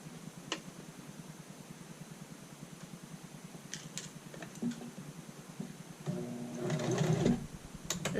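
A sewing machine stitches a child's shirt collar in a steady fast rattle of needle strokes, with a brief louder, denser burst near the end as it backstitches; close and alone, with no talk.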